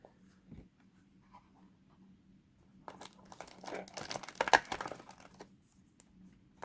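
Plastic wrapping is peeled and torn off a sealed Yu-Gi-Oh! Maximum Gold card box, with a faint rustle at first and then a burst of close crinkling and tearing in the middle before it quiets.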